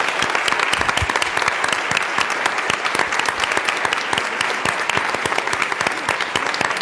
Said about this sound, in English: please join me in a round of applause for the contributions of Zipporah Hammond